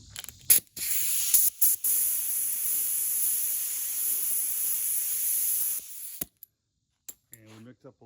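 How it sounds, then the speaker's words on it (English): Compressed air blasts dust off a scratched custom-painted surface in a loud, steady hiss lasting about five seconds, preceded by a few short spurts. Quiet clicks and brief sounds follow once it stops. "we're going to blow the dust off this"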